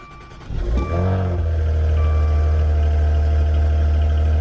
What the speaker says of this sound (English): let's talk about the cold start in sport mode